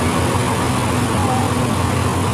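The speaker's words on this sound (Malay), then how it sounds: "Jeep." A Jeep's engine runs through floodwater, a dense, loud, steady rumble with no pauses, heard close with no voices.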